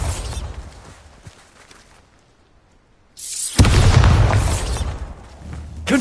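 A Bombarda spell detonates in Hogwarts Legacy with a sudden loud, close boom that rumbles out heavily. Quieter combat rumble and scuffling come before it.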